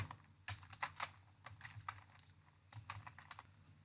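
Quick bursts of keystrokes tap on a computer keyboard, faint and close, in an uneven rhythm of clicks with short pauses between groups, and no voices.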